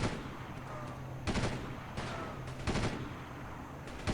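Rapid bursts of gunfire from the tactical shooter video game Delta Force, several loud volleys about every half second to a second over a constant background of combat noise.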